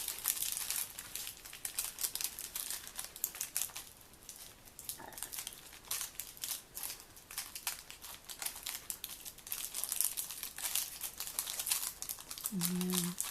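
A lollipop wrapper is folded and crinkled by hand while making a bunny treat, steady close rustling and crackling throughout, with a brief low vocal sound near the end.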